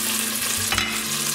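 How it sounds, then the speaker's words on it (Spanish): Paprika being stirred in a pan over low heat for vegan lentils with rice, a soft scraping stir with a faint continuous sizzle, close and steady with no talking. "En este punto me gusta ponerle el pimentón. Lo muevo así a fuego bajo."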